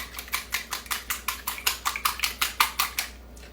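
A lemon chess bar mixture with egg is beaten in a bowl: a steady series of about fifteen sharp, regular utensil strokes against the bowl, close and clear, with no talking.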